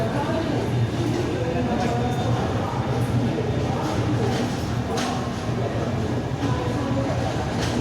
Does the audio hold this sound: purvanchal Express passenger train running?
yes